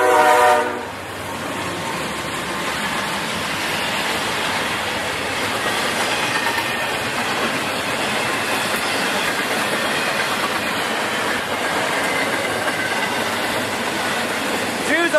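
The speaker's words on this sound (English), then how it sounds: "The train's on the way." A CSX or Amtrak train rolls past on a rainy day, a loud continuous rumble of wheels and cars lasting fifteen seconds with a brief horn at the start and faint squealing above the steady roar.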